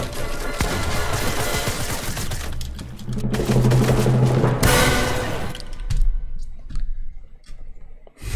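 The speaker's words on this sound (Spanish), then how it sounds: "Vale, sigue disparando, sigue disparando, güey" Rapid gunfire from a weapon in the video game Fortnite, a dense stream of close, loud crackling shots that runs for several seconds before breaking into scattered clicks and single pops.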